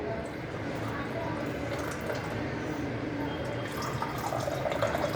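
Water poured steadily into a container, a continuous trickling wash running the whole time at moderate level, with faint voices in the background.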